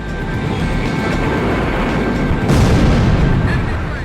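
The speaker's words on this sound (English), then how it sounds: "Oh no, we're strafing them again." Aircraft strafing run in the combat flight game Ace Combat X, a loud continuous roar of rapid gunfire and jet rumble that swells near the end.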